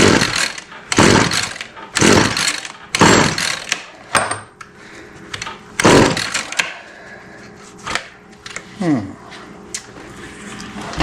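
A Stihl FS56 string trimmer with the choke on is yanked over and over with the pull cord, making a series of loud, rasping bursts about a second apart that never catch and run.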